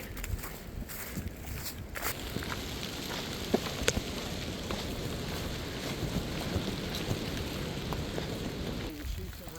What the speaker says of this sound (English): Sheets of rain.